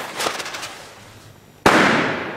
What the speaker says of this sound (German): Ebenfalls belgischer Böller,